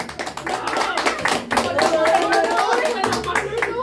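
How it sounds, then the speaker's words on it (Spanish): Guests at a birthday party with a mariachi band clap in a loud, dense burst close by, steady throughout with voices mixed in beneath the applause. "Y fuerte el aplauso que se escucha."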